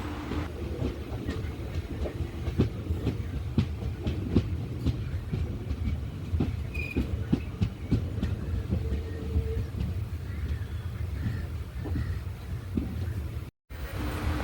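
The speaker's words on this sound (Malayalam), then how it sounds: "ഒടൻചത്രം റെയിൽവേ സ്റ്റേഷനിലേക്ക് അങ്ങനെ ട്രെയിൻ കയറുകയാണ്" Amritha Express train pulling into Oddanchatram railway station, a steady low rumble with rhythmic wheel clicks on the rails, heard close from on board and continuing throughout with no talk.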